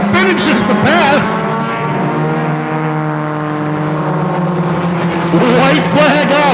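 Bone Stock class race cars lap Sunset Speedway in a loud, sustained engine drone with shifting pitch as the pack passes, while an announcer talks over the roar throughout.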